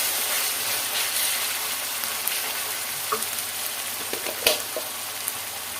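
Pointed gourd frying with ginger garlic paste in a large wok, a loud, steady broadband sizzle with a few spatula scrapes and clinks toward the end, close up and without talk.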